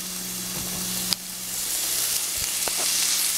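Cabbage and dumplings sizzle steadily in a hot pan, a dense continuous hiss heard up close, with a sharp utensil tap early on and a couple of soft stirring thuds later.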